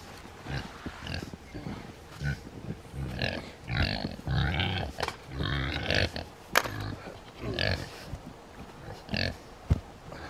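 Boars grunting and snuffling during winter feeding on a snowy farm, a run of close, low grunts and oinks coming in irregular bursts, with a person talking now and then.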